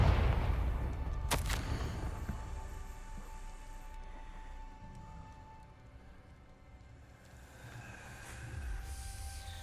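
A Confringo spell cast in the Hogwarts Legacy video game, a loud blast at the start followed by a sharp crack and a rumbling tail that fades, with a swell of ambient game sound near the end.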